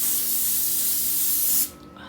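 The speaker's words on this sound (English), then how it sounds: "we are going to use some spray adhesive here" A can of spray adhesive sprays in one continuous, close hiss outdoors on a patio, cutting off sharply near the end and leaving a faint quiet tail.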